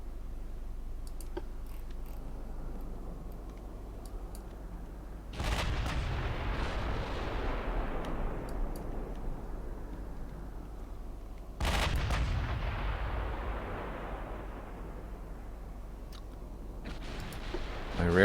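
Battleship guns firing in Ultimate Admiral Dreadnoughts, a 1900 British campaign: two heavy booming salvos several seconds apart, each a loud blast decaying into a long rumbling tail over a quiet background.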